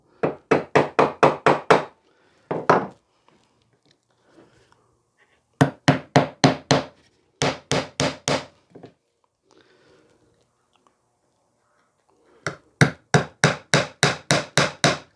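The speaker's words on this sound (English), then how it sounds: "Before I start that, 2 more nails. Blunt the ends. Don't hit too hard or you'll bend the nail." Nails being hammered into pallet wood for a bird box, sharp close knocks in quick bursts of about five to eight evenly spaced blows, separated by quiet pauses with faint handling noise.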